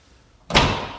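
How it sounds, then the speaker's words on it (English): A Lexus tailgate swings shut with a single loud, close slam that thuds and fades quickly, with no talking. "Close the tailgate."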